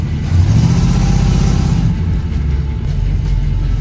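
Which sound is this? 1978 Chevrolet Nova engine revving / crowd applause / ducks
1978 Chevrolet Nova engine revving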